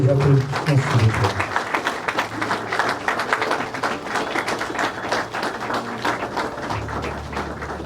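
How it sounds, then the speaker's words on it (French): An audience at an art restitution ceremony gives sustained applause, a dense, even clatter of many hands from start to finish. A voice speaks over the opening moments. "Sous vos applaudissements, s'il vous plaît."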